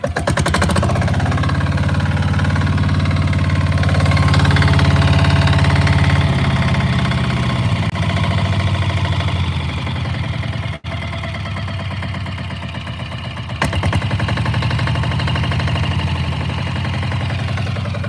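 A restarted ATV engine, recovering after a fire, idles loudly and steadily nearby at a slow idle. Its pitch lifts briefly, and there is a short dip and a sharp click partway through. No voices are heard.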